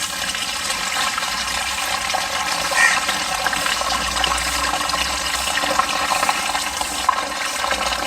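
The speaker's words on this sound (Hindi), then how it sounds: "अब ये और ये मैं इसके अंदर पानी से इसको भर दूँगा।" Water pours steadily into a tub of cocopeat, a continuous broadband rush and gush that stays fairly loud and even throughout, with no talking.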